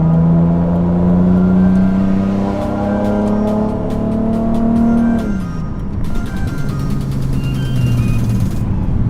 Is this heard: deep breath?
no